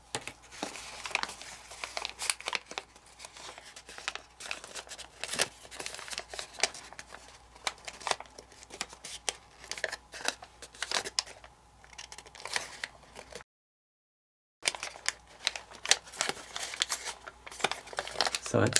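Origami paper being reverse folded, a dense run of crinkling and crumpling close by with many sharp crisp rustles, one short gap of silence, and no talk over it.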